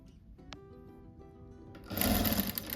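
A sewing machine stitching scraps for a rug starts slowly under quiet background noise, then bursts into loud, rapid full-speed whirring near the end.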